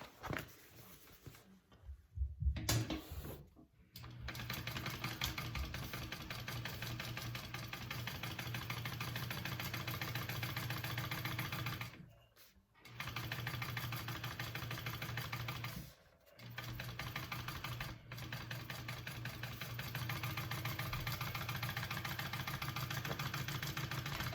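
A sewing machine stitches a seam line on a fabric bucket bag, its steady motor whir running in long stretches with a few brief stops, close and unaccompanied by voices.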